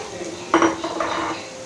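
A soft clatter and clink of boiled chickpeas being dropped into a metal pot, followed by a brief scraping stir.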